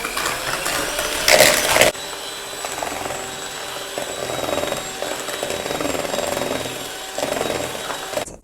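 An electric mixer whips egg yolks for a sponge cake with a steady, close, buzzing motor whir. It surges louder for a moment near the start, then runs on evenly.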